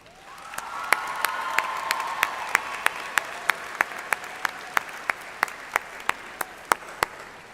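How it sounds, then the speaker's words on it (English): A crowd applauds steadily at a college commencement ceremony, with sharp nearby claps cutting through at a quick, even rhythm. "please join me in a big round of applause to thank your loved ones"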